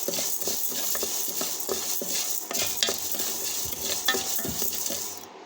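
Red gram dal dry roasting in a pan, with steady stirring scrapes and light crackling running throughout, close and moderately loud, with no voices.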